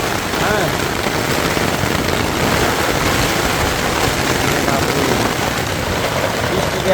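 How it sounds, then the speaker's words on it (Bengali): Heavy rain pours down during a fierce storm while someone tries to cook outdoors in a village, a loud, dense, unbroken hiss of rain that drowns everything else and stays steady from start to finish. "আজ সব ডুবে যাওয়ার মতন অবস্থা অনেক বৃষ্টি"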